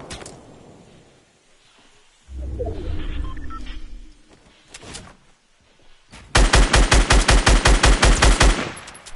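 Fortnite machine gun fire ends in one loud, rapid, evenly spaced burst lasting a few seconds, after an earlier heavy rumbling blast and quieter game noise.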